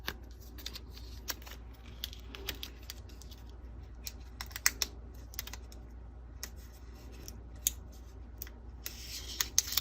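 Scissors snip through transfer tape and vinyl in a series of quick, crisp cuts, irregularly spaced over a quiet background, close to the listener.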